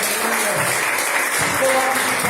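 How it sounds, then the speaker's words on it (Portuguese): A church congregation claps for Jesus after a sermon, a dense wash of applause running steadily throughout, loud and close with faint voices mixed in. "Pode aplaudir ao Senhor Jesus."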